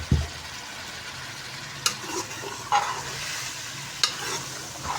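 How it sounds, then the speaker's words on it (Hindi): Fried aubergine, potato and onion being stirred into a sizzling masala in a pan, a low constant frying hiss punctuated by a few distinct spatula scrapes and knocks, nearby and free of speech. "अब इसके अंदर हम डाल देंगे सब्ज़ी जो हमने फ्राई करके रखी हुई थी, बैंगन, आलू और प्याज। इस सारी सब्ज़ी को मिक्स कर लेंगे।"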